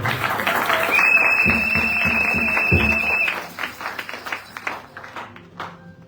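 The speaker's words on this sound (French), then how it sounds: "Acclamez pour les voix de Dieu." A church congregation applauding during a Sunday service, steady clapping for a few seconds over a held sustained tone, then tapering into scattered claps as the room quiets.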